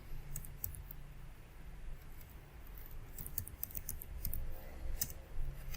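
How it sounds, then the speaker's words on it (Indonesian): Someone types the ipconfig command on a computer keyboard: sparse, light key clicks in short clusters over a steady background hiss. "Kita ketikkan IP config."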